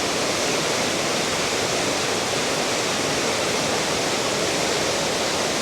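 Water pours steadily down the second tier of a seven-stage waterfall in a wooded hillside, a loud, constant broadband rush that fills the whole clip without pause or voices.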